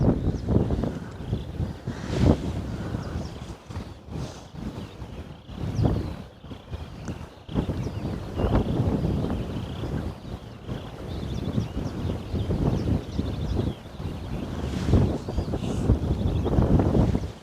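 Wind gusts across open green fields outdoors, buffeting the microphone with rough, uneven bursts of rumbling noise that rise and fall throughout.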